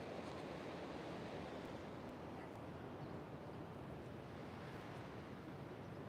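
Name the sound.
ocean waves at Pacific Beach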